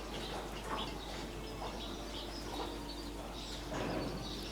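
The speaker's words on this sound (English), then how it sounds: "the birds flutter with a wee bit of background noise here" Corvids fluttering their wings around bait during an air rifle hunt, a soft continuous flapping and rustling with faint bird calls, heard against steady outdoor background noise.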